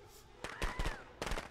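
Fireworks going off in the Friday the 13th video game: a rapid string of sharp cracking pops in several bursts over about a second, with a faint whistling tone and some background voice.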